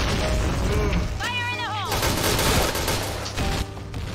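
Explosions and gunfire in the online shooter Point Blank: dense, continuous rattling shots and booms fill the clip, with a swooping whistle-like effect near the start, all loud and busy throughout.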